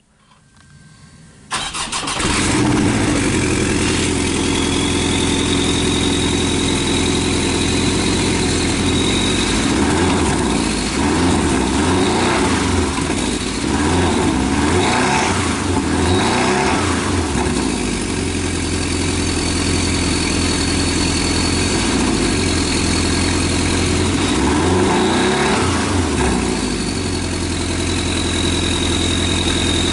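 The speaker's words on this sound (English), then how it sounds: "So that was the sound of the flat 4 turbocharged" A Porsche 718 Cayman GTS turbocharged flat-four engine cranks and catches, then settles into a steady, rumbling idle that runs on continuously and loud.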